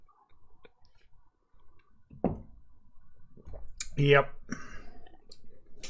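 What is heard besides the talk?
mechanical keyboard switches clicking, Kailh green switches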